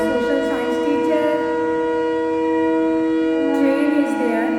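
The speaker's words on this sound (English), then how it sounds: "Train is there" A passing train sounds its horn in one long, loud, continuous blast, held steadily nearby.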